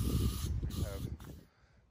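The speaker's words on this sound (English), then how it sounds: "Give this a final bit of a spray" A short, loud hiss of an aerosol spray can painting a boat's wakeboard pylon, lasting about a second and a half before cutting off, close by.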